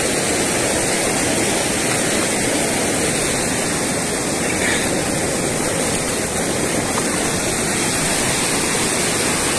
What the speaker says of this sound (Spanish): Este es el río Juanambú.